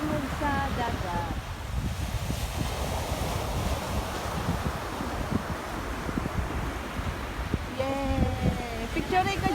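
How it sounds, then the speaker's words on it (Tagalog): Sea waves wash on shore at Kalamay Beach, a steady surf roar mixed with wind buffeting the microphone, with voices speaking briefly at the start and near the end. "Ang tingog sa dagat."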